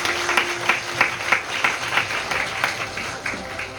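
An audience claps at the opening ceremony of a student Model UN conference, a close, lively round of applause with distinct rhythmic hand claps that tapers off near the end.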